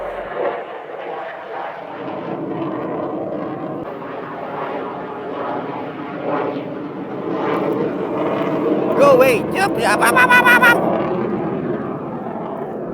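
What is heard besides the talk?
fighter jets flying overhead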